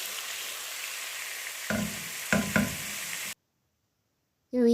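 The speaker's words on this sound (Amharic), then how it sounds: "በመጀመሪያ ነጭ ሽንኩርቱን እንደዚህ በዘይቱ ጠበስ አደርገዋለሁ።" Garlic frying in oil for Ethiopian gomen tibs, a steady close sizzle with a few stirring clatters, then a brief silence before the sizzle returns.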